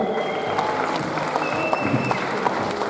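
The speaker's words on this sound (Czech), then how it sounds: "Dámy a pánové, určitě můžeme jednou zatleskat." Crowd clapping at a potato salad speed eating challenge, a dense, even patter of applause holding steady throughout.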